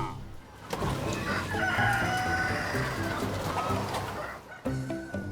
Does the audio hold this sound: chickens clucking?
yes